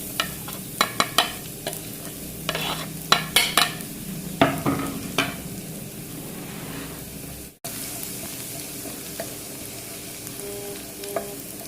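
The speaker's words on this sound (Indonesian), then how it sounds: "Panaskan wajan. Kita kasih minyak." Onions sauté in hot oil in a wok, a soft continuous sizzle broken by a series of sharp scraping stir strokes near the start, then a steadier fry after a brief cut.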